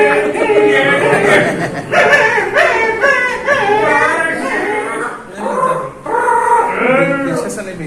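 People imitate a small puppy's yips and whimpering barks in a close, loud burst of voiced calls with chuckling mixed in, running steadily for several seconds.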